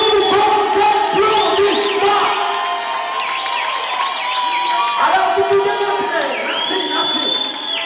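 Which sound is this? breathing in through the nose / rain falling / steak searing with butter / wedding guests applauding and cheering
wedding guests applauding and cheering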